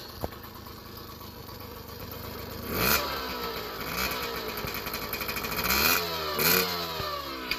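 A rebuilt 1983 Yamaha PW50 dirt bike with a 60cc big bore kit runs close by. Its small two-stroke engine buzzes steadily and rises in several revving surges, with no talking.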